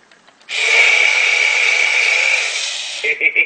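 A children's toy drill buzzes in one loud, steady whir lasting about two and a half seconds, then stops, leaving a few short rattles and clicks close by.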